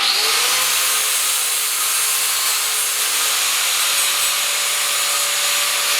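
A flap disc grinds down a homemade automotive trim clip to taper it, making a loud, continuous abrasive whir with a steady high motor whine throughout, close and without voices.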